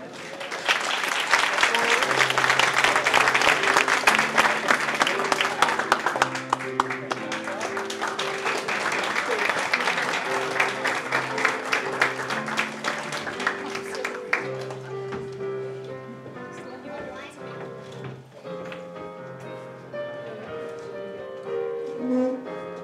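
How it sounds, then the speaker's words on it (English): Audience applause at a Christmas pageant, a dense sustained clatter of many hands that fades after about fourteen seconds into music with a few scattered claps. "Let's give them all a great round of applause."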